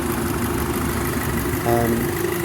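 An Audi 2.0 TFSI engine fitted in a Mk2 TT idles steadily, a continuous mid-low hum with a faint tonal whine in the background.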